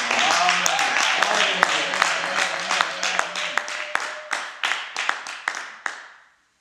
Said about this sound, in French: Est-ce que Toboki peut applaudir pour la gloire de Dieu?